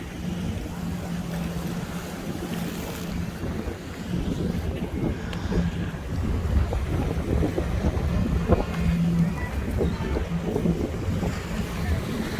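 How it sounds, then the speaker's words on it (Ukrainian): Strong, gusty wind blows across a seaside embankment at Bal Harbour, Miami, roaring steadily into the microphone with a rough, buffeting rush that swells and presses on for the whole stretch, no voices breaking through. "Такий вітер жорсткий взагалі."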